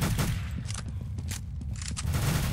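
Rapid SMG fire in the video game Counter-Strike: Global Offensive during an Arms Race match, heard as loud dense bursts of shots with short gaps and no speech.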